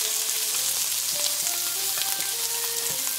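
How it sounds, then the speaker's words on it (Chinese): Prawns pan-frying in a wok over medium-high heat, a steady close sizzle with occasional clinks and faint tonal scrapes as they are turned. "咁我哋可以咁样样反一反佢，喺中间度煎一煎佢咯。"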